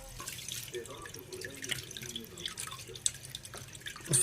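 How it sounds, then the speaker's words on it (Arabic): Tap water runs steadily into a sink while fish are rinsed and cleaned by hand, with a soft splashing wash throughout and a brief louder splash near the end, close and moderately quiet. "هروح نغسل السمك كله وننضفه"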